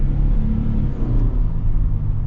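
A 2025 Toyota Sequoia accelerates from inside the cabin, a steady low engine rumble and drivetrain drone filling the space continuously with no talk over it.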